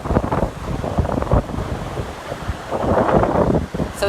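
Sea waves break against the seawall at Dawlish, surging in loud rushing pulses mixed with strong wind buffeting close to the microphone.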